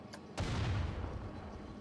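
A faint burst from the Planet Coaster video game opens with a short crack, then a low rumbling boom that lingers and fades slowly.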